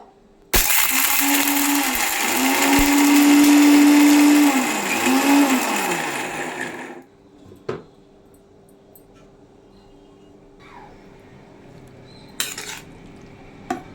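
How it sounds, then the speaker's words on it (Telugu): A kitchen mixer grinder blends cooked mint, tomato and green chilli chutney in a loud, steady whirring burst lasting about six seconds, then stops, leaving faint clinks of the jar and utensils. "మిక్సీ వేసుకుందాం."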